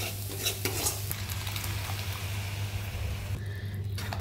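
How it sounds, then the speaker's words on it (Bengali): Spice masala for Kolkata-style fish kaliya sizzles and is stirred in a pan, a steady close frying hiss with scraping strokes from the spoon and a short clatter near the end. "এবার সব কিছু দিয়ে এটাকে একটুখানি ভালো করে আমি কষিয়ে নেব।"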